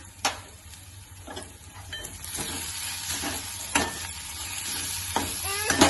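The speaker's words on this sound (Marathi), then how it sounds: "त्याच्यात थोडी कोथिंबीर टाकून मिक्स करूया" Coriander is mixed into pav bhaji with tomatoes and onion in a pan, making a soft sizzle under repeated scraping stirs and a few light clinks of metal utensils, heard close.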